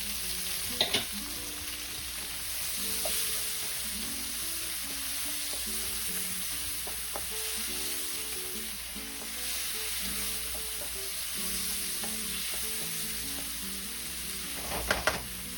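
Tomatoes with garlic sauté in a hot pan with a steady, close sizzle and frying hiss, broken by a few clinks and stirring scrapes.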